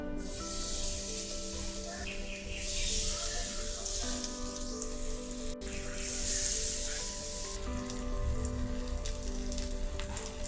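Bombay duck fish (bombil) frying in a spoonful of hot oil on a low flame, a loud, close, continuous sizzle with surging spatter bursts over a faint background hum.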